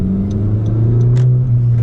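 A Honda Civic Si engine pulls steadily under acceleration, a loud, smooth drone rising slightly in pitch, heard from inside the car with a few faint ticks and clicks.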